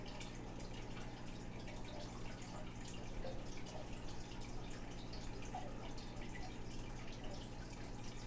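Steady, continuous wash of running water rinsing down plant leaves, a close, even spray with dripping texture and no talk.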